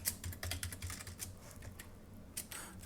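Computer keyboard keys clacking in quick, uneven bursts during coding, close and moderately loud with no voices, trailing into sparser taps.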